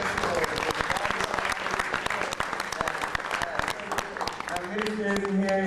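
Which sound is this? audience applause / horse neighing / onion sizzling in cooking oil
audience applause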